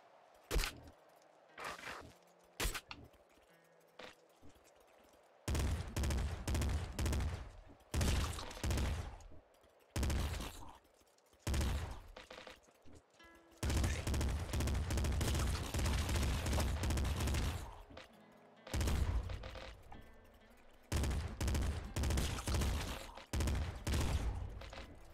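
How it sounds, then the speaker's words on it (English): Rapid auto burst fire and heavy double shotgun blasts from the video game Nuclear Throne come in dense, loud clusters, with sparse shots early on, then long stretches of continuous gunfire broken by short pauses. "Well, kind of wish this thing didn't auto burst fire."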